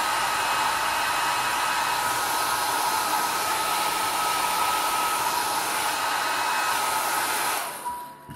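A hair dryer blows in a loud, steady whoosh while drying an alcohol ink background, holding constant for several seconds before cutting off abruptly near the end.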